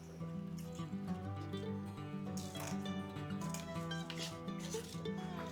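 Scissors cut the tail of a ribbon on a no-fray deco mesh wreath, giving a few crisp snips close by over soft background music.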